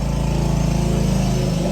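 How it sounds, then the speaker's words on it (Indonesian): A motorcycle passes by outside, its small engine buzzing loud and steady with a fast pulsing drone that holds at close range throughout, no talk over it. "bentar guys, ada motor."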